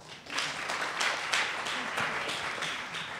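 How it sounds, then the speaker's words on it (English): Audience at a startup conference clapping harder on request, a dense sustained burst of applause with distinct loud claps swelling through the room. "If you're a fan of Star Trek, clap your hands even harder."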